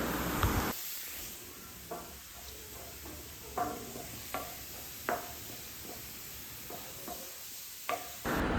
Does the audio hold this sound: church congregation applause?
no